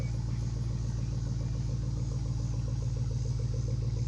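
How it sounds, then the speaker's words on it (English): A 4.8 V8 in a regular cab short bed truck idling after a cold start, with a steady deep rumble and a faint ticking clatter, close and continuous without talk. "That's a cold start."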